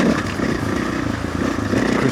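A motorcycle engine rumbles steadily and close while engine braking slows the bike, a continuous low, throbbing drone with no other sounds over it.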